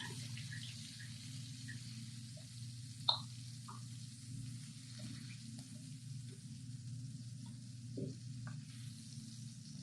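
Pork liempo fries quietly in a pan with a faint, steady sizzle under a low kitchen hum, broken by a few small clicks and pops.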